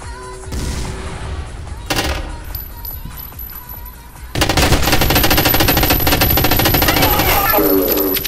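Gunfire in the video game G-String, a Half-Life mod: bursts of shots at first, then a loud, sustained rapid machine-gun stream that fills the second half, with a voice talking over parts of it.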